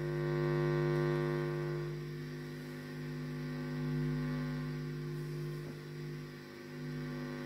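Steady low electrical hum from an old Soviet transformer, continuous and fairly quiet with strong harmonic drone and slight swells in level, no speech.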